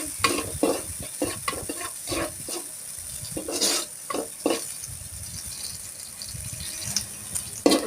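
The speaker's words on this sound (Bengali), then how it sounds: "বাগারের মধ্যে শুকনো মরিচ ভেজে নেবো।" Dried chillies, chopped onion and crushed garlic frying in tempering oil for a lentil and bottle gourd dal, heard as a constant sizzle with frequent close, rattling stirs of a spoon in the pan.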